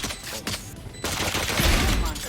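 Gunfire in the tactical shooter Valorant, a dense rattle of rapid shots that starts partway through and runs as a sustained burst over game noise.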